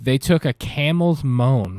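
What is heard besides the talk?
None of the usual background noises is heard.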